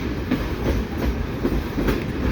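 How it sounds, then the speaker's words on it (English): A freight train rolls slowly down a one-mile grade at Cumberland Mine Railroad, its wheels producing a steady low rumble with rhythmic clickety-clack thumps close by. "the guardrail's vibrating from the train moving"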